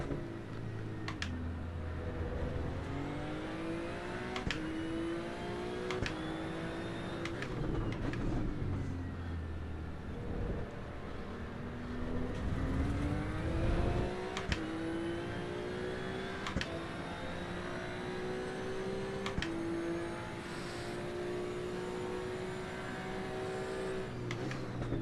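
A racing car engine in a racing video game, a GT2 Maserati session at COTA, as another car approaches from behind, with a continuous revving whine that rises and falls through gear changes and stays fairly faint and steady.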